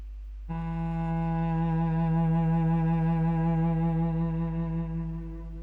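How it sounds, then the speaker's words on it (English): A single low note from a sampled virtual solo cello is bowed slowly and evenly, swelling gradually in loudness before easing off near the end, heard alone and close. "long, slow bow movement with a slow crescendo"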